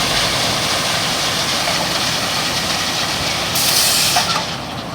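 Heavy machinery at a concrete batching plant drones in a constant, broadband roar, with a harsher hiss swelling briefly toward the end.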